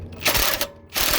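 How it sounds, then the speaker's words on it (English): A small socket ratchet wrench used while removing the gas tank from a Predator 212 engine, giving short, close mechanical clicking bursts in quick succession. "This here is much better than our little socket wrench"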